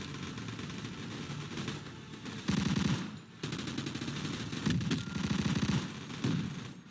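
Rapid automatic gunfire rattles through a shooting arena video game, with dense bursts of shots that swell louder in several stretches, briefly break off, then resume with no speech over them.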